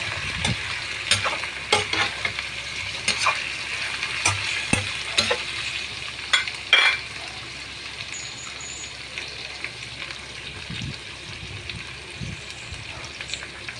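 Pre-fried chicken liver tipped into a hot pan and stirred, giving a low steady sizzle broken by sharp scraping and clattering spoon strokes, busiest in the first half, then quieter frying.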